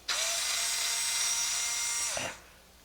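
A power screwdriver spins screws out of a be quiet! Silent Base 802 PC case: one steady, close, high whine lasting about two seconds, then winding down with a brief rattle before quiet.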